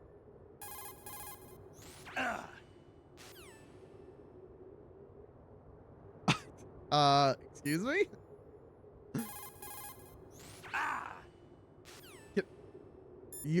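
A telephone rings in the video game Metal Gear Solid 2 in repeated electronic trilling bursts, with game sound effects between the rings and someone speaking briefly.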